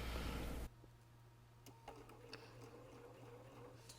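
A sewing machine stitches a quilt block seam in a brief loud, steady mechanical whir, then falls to a low hum with sparse light clicks and taps.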